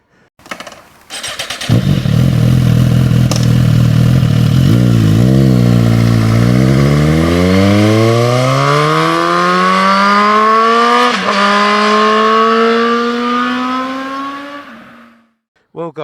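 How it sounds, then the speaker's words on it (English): A Suzuki GT motorcycle engine cranks and fires up, then revs steadily with rising pitch for over ten seconds before cutting off, loud and close. "it helps if I start the engine."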